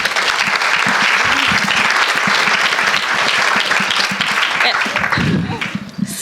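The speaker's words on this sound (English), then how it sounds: "So give them a round of applause." A live audience breaks into a sustained round of applause at an International Women's Day event, dense clapping filling the room evenly and fading slightly near the end.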